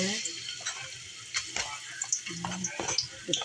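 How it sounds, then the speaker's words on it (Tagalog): Ginger fries in hot oil for a corn soup, a soft steady sizzle broken by light clinks and stirring scrapes from the pan. "Lutuin na natin yung ginger."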